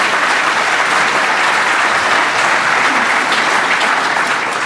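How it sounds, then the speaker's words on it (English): Audience at a religious freedom debate breaking into loud, sustained applause, dense clapping from a large crowd filling the room evenly throughout, with no speech over it. "Give him a hand."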